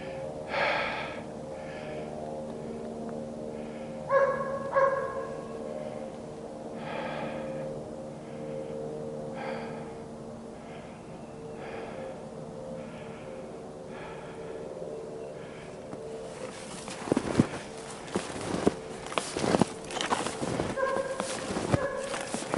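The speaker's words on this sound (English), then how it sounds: "Yeah, that dog knows I'm back here." A dog barks repeatedly in winter woods during a snowshoe hike, the woofs distant and spaced, then closer crunching and breathing-like noises take over near the end.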